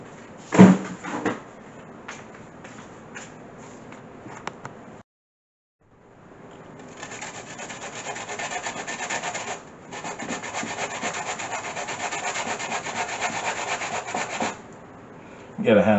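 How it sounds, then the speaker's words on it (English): Sweet cassava is grated by hand on a hand grater, producing close, rough rasping strokes in sustained runs. A short silent pause breaks the scraping before it resumes at a steady pace. "grate them on a hand grater to get it into that fluffy,"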